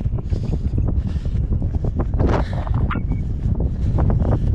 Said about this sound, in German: Doch ein bisschen windig.